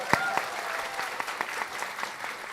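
Talk show audience applause for guests Ibu Rini and Ibu Aprinda El Mansawan, a moderate, even patter of many hands clapping, fairly distant and steady.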